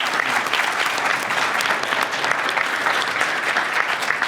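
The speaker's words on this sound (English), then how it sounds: "let's give all the participants one more round of applause" An audience applauds all the finalists of a pitch competition with a dense, sustained roar of clapping that holds loud and even from start to finish.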